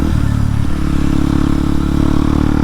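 Kawasaki KLX dirt bike engine idling close by, a loud steady low thrum with fast even firing pulses and a light mechanical clatter, holding constant with no talking.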